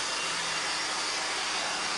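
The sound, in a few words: blower cleaning dust from a computer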